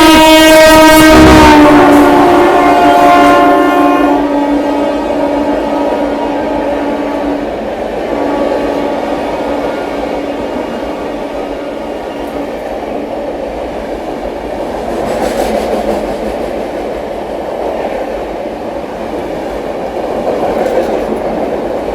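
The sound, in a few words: 12301 Howrah–New Delhi Rajdhani Express overtaking with horn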